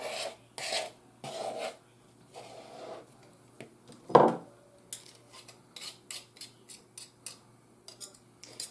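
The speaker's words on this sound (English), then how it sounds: "I'm just scraping my spoon because I'm thinking we're going to have to do that before too much longer" A metal spoon scrapes around a mixing bowl of biscuit dough in short rasping strokes, close by, with a single louder clack partway through and lighter scraping near the end.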